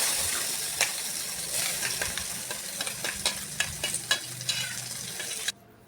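Soft sizzle of garlic, cumin and curry leaves frying in oil, with a spoon stirring and scraping the pan in light, irregular clicks, close by and fairly quiet, with no voices.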